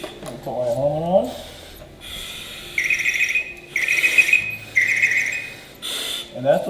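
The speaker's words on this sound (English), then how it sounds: "that's what's called our pass alarm" A firefighter's PASS alarm sounding in repeated loud, piercing shrill bursts with short gaps between them, following a brief rising whine, with a person speaking near the start and end.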